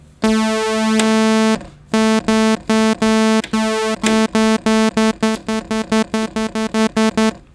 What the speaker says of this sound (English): it's forcing oscillator 2 to sync at the crossover point for oscillator 1